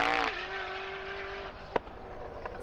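A Koenigsegg Jesko sports car engine plays as a recorded clip, a sustained high engine note that settles and fades, then a sharp click near the end.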